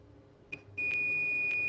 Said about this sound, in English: you can receive here a beep sound